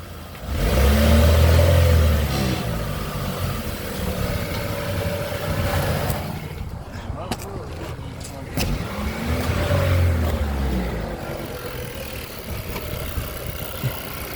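A 2018 Chevrolet Equinox with the 1.5 engine, stuck in a ditch, revs up twice with rising and falling tones over a rough, steady engine drone and an added noise, close and fairly loud.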